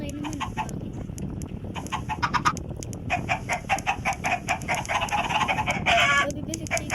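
Many Minecraft chickens cluck and squawk in a dense, continuous chorus, close and fairly loud, with a voice talking faintly underneath.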